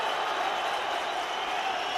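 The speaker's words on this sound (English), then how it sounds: "A huge cheer from the Burnley fans at Turf Moor" Burnley fans cheering at Turf Moor during a Championship football match against Norwich, a dense, steady roar of a large stadium crowd, loud and sustained throughout the short moment.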